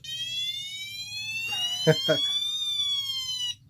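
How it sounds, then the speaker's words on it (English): A Zen Wheels micro toy car siren wails in steady rising and falling tones, then shifts to a second siren pattern, loud and close with a couple of brief clicks midway. "It has sirens. It has another siren."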